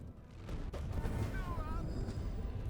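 Artillery fires in the strategy game Age of Wonders, low rumbling booms and impacts mixed with game effects, while someone talks over the action.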